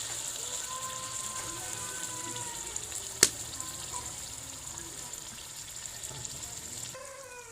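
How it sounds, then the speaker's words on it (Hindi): Chicken korma gravy cooking in a pot after a glass of water goes in, giving a continuous soft sizzle and bubbling, with one sharp utensil clink midway. "तो इसमें 1 गिलास पानी डालेंगे हम।"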